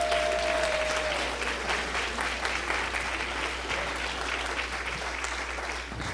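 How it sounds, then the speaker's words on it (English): Sustained applause from an audience after a rebirth workshop at a Sunday service gathering, dense continuous clapping throughout at even loudness, with a brief tone near the start. "Can we give another round of applause to Reverend Damien?"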